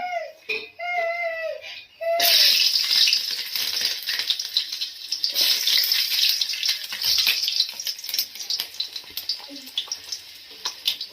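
After a short spoken phrase, whole cinnamon and cloves start roasting in a hot pan for a hesarukalu huli, giving off a steady bright sizzle and crackle that continues to the end.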